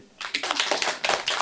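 A group of children claps hands together in a fast, dense burst of overlapping claps lasting about a second, close and fairly loud, following a brief quiet moment.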